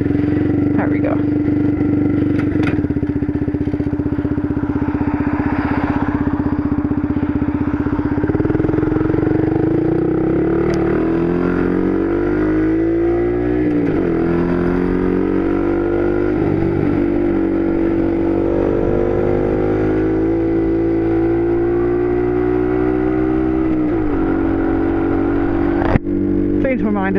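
A cold motorcycle engine runs close by with a steady rumble, then revs up and down in several rising and falling sweeps before settling back. Someone talks over it.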